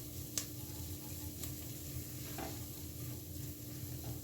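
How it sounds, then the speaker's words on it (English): Garlic sautéing in a pan for venison stew, a low steady sizzle with occasional light clicks of stirring, close and fairly quiet with no talking. "I'm gonna saute for another minute or so because I don't want my garlic to burn"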